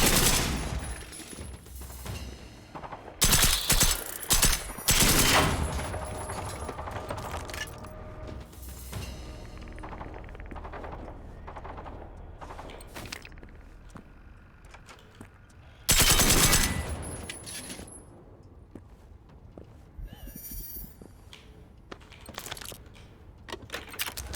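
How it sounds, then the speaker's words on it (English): Submachine gun bursts in the video game Generation Zero, loud rapid volleys at the start and again midway, separated by quieter stretches of game ambience and faint clinks. "Alright, it's SMG time."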